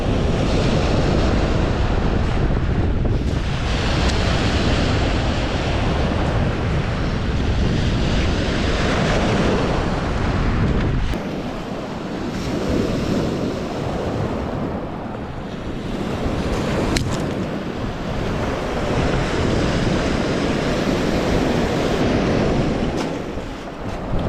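Waves washing onto a rocky Lake Erie beach in February, a continuous loud rush of surf mixed with heavy wind buffeting the microphone, easing slightly in the second half, with no talking.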